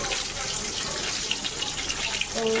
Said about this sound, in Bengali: মাছটা ধুয়ে নিয়ে আসি চটপট